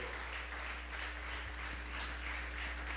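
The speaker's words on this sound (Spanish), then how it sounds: "Denle un aplauso al Señor" Applause from a church congregation during a sermon, a dense continuous clapping that holds steady throughout, with a low hum underneath.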